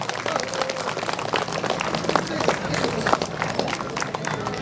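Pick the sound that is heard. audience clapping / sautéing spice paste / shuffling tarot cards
audience clapping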